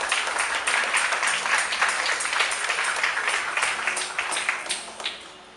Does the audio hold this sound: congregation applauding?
yes